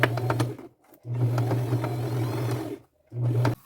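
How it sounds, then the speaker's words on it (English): A sewing machine runs a single straight stitch across the top of an upcycled bag, three bursts of steady whirring hum with brief pauses between, close up and alone. "And then at my machine, I'll just stay very close to the top of the bag. Just do a single straight stitch all the way across."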